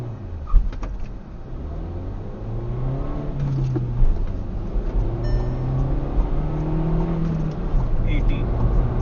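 A 2019 Škoda Octavia 1.4 TSI with a manual gearbox makes a launch start, its engine revving and pulling hard through rising and falling gear sweeps, loud and continuous, with a voice speaking over it.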